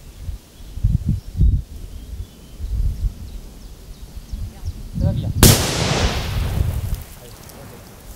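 Firecrackers such as Cobra 6 and Gladiator bangers go off outdoors, with a few dull thumps early on and then a loud sharp blast followed by crackling noise and a lingering rumble.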